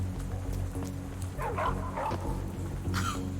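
Dogs barking and yipping in a video game, a few short sharp yaps clustered in the middle and end over a steady game background hum.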